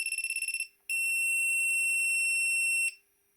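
A bootloader burner board for Atmega328 chips beeps loudly after its reset button is pressed: a quick train of rapid pulsed beeps, a brief pause, then one long steady high-pitched tone lasting about two seconds before cutting off.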